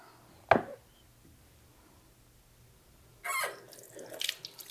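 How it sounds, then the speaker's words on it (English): Tap water runs and splashes at a kitchen sink as a cutting board is rinsed, beginning with a brief sharp clatter and then a burst of gushing, uneven water in the last seconds, close and moderately loud with no talking. "I'm going to move these pickles over here so I can wash this board that these ants are all over."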